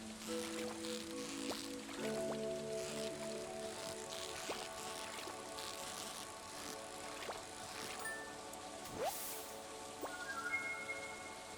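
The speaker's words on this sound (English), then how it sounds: "it continues to rain" Rain falls steadily in the video game Stardew Valley, a soft continuous patter under gentle tonal game music, with no speech.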